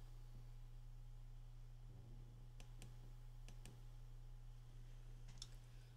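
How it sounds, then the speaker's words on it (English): A computer mouse gives a few faint, sharp clicks, mostly in pairs, spread across a quiet room with a steady low electrical hum underneath. "I'm clicking on it."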